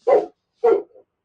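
A dog barks twice indoors, two clear separate barks about half a second apart, the second trailing into a brief whine, with no talking over them.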